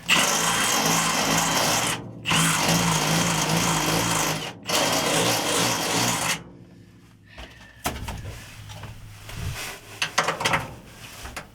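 A power drill whines loudly in long bursts, cutting off briefly between runs, then stops; quieter clattering and handling noises follow.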